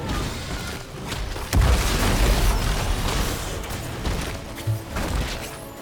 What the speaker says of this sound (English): Fort destroyed!